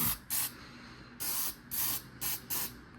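An aerosol can of spray paint hisses onto an RC car body in six short, sharp bursts, the later ones coming in a quick rhythm, close and clear with quiet gaps between.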